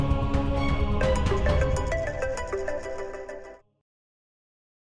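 A mobile phone ringtone announces an incoming call, loud and close: a bright, melodic electronic tune repeats for about three and a half seconds, then cuts off into silence.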